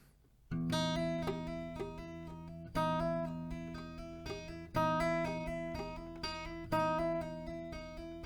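An acoustic guitar plays a plucked melody over strummed chords, with fresh attacks roughly every two seconds and notes sustaining between them, steady and fairly clear with no voices.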